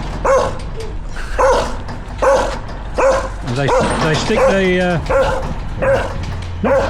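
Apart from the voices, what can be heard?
dog barking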